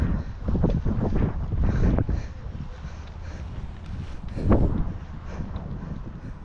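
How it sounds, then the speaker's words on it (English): Strong gusty wind buffeting the microphone at an outdoor camping show in Cornwall, with low roaring rumbles that swell and ease in waves, loud and close throughout. "It is quite windy here today,"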